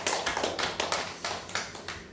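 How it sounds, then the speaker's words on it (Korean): A church congregation applauding together at a year-end Sunday service, broad clapping from a crowd in a hall with several swelling surges and no speech over it. "각자에게 우리 격려의 박수 해주셨습니다."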